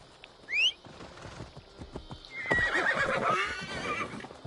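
An Irish horse in the video game Assassin's Creed Valhalla gives a loud, shrill whinny, followed by a steady clip-clop of hooves that grows stronger, close by with no speech.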